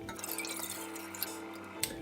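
Water poured into a cooking pan, a steady liquid stream with faint clinks near the end, heard alone and close.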